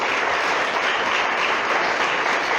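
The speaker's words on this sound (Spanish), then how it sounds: "dale un aplauso a mi Rey, a mi Señor." Sustained applause from a church congregation at a worship service in Tecpán, Guatemala, a steady dense wash of clapping filling the whole stretch with no voices over it.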